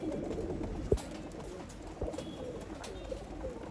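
Pigeons kept for sale in Bangalore coo softly in low, throaty murmurs against a dull background, with a couple of brief knocks mixed in.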